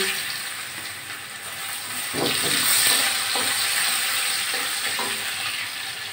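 Cut hog plums (amra) dropped into hot oil with a dried chilli, giving a steady loud sizzle and hiss that swells partway through, with light stirring scrapes and no talk.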